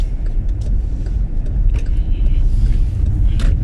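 A car rolls slowly along a narrow residential street through a housing estate, with a loud, steady low engine and road rumble heard from inside the vehicle and a few faint knocks, and no talking.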